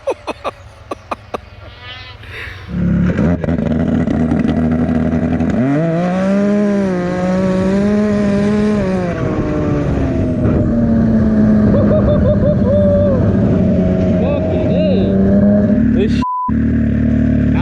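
An 1100 hp snowmobile revs up with anti-lag, its loud, rising engine roar sweeping in pitch before launching and holding a strong, sustained howl, with brief pops near the start and a sudden cut near the end.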